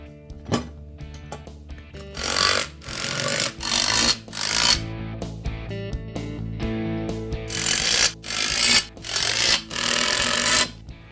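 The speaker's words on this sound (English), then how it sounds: "we're going to tighten these down with our 3/4 inch socket" A 3/4 inch socket tightening lock nuts on a bearing carrier during Black Boar plugger assembly: a string of loud, rapid ratcheting or impact bursts, each lasting about a second, separated by short pauses.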